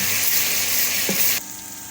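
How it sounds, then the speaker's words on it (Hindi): Chopped tomato frying in a pan with browned onions for matar keema, giving a loud, close, continuous sizzle with a soft stirring knock before the frying noise drops off abruptly. "अब इसमें हम करेंगे 1 अदद टमाटर ऐड चॉप हुआ और इसको भी अच्छी तरह हम भून लेंगे"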